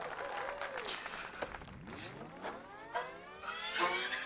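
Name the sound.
audience arriving at a live concert recording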